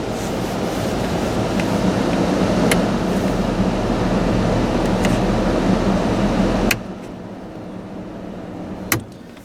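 A 1991 Ford F-150 heater blower motor runs on its highest speed, a loud, steady rushing whoosh of air that cuts off abruptly near the end, followed by a quieter lull and one brief click.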